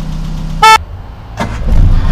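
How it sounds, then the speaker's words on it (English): Two short blasts from the horn of a red 1977 Triumph Spitfire convertible: one loud, bright honk, then a shorter, weaker toot, both close over a low idling hum. "and a horn"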